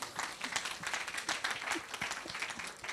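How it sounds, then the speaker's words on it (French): An audience at a French talk on the future breaks into sustained applause for a speaker at the podium, a dense, steady wash of many hands clapping throughout. "Et on l'applaudit à nouveau"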